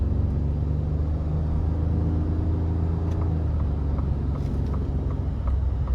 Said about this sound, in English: Now I'm gonna put the truck back into sport mode now, and I want to see how it accelerates manually